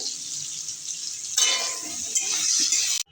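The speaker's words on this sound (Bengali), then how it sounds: "এবার আমি মিষ্টি আলু আর এমনি আলু ভেজে নিচ্ছি নুন আর হলুদ দিয়ে" Sweet potato and potato pieces fry with salt and turmeric in oil, a steady bright sizzle that swells louder midway as the pieces are stirred, with a brief scrape before it cuts off.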